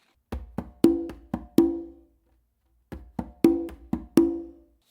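Hand-played conga funk pattern built from bass, finger and open tones, two short phrases of sharp drum strikes with ringing open tones, separated by a brief pause, played alone and close.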